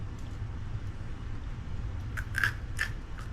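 Crunchy oven-baked white potato hashbrowns, crispy and hot straight from the oven, being bitten into; a few crisp crunches come close together near the end over a low steady background hum.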